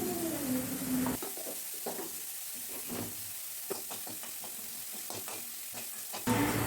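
Garlic, chopped onion and curry leaves frying in a pan after mustard seeds, a steady close sizzle with scattered crackles and light stirring scrapes throughout.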